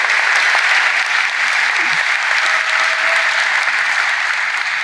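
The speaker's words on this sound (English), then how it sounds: "Loving the applause right now." Steady, full applause from a crowd at a college commencement ceremony, continuous and even throughout, with no speech over it.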